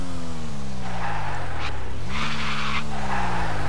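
A car in Garry's Mod skids with both the brake and handbrake held, its tires screeching in loud bursts over a steady, droning engine note that dips and recovers.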